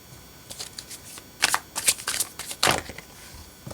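Tarot cards shuffled by hand before a card draw, heard as a series of crisp riffling bursts that grow louder toward the middle, close and clear with no talking.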